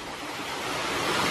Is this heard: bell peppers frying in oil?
no